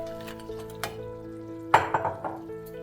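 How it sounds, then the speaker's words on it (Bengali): Crab pieces going into a hot pan with spices and green chili: a low steady sizzle under a faint hum, broken by a sharp burst of clattering and spattering as the crab lands, then a few smaller knocks. "আমি এখন অ্যাড করে দিচ্ছি ক্র্যাব।"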